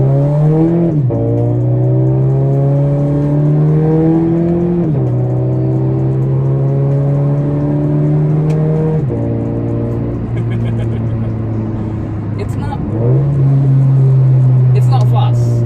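Toyota GT86 sports car engine revving up through the gears while driving, a steady loud drone that climbs in pitch and drops at each shift, heard from inside the cabin without talk.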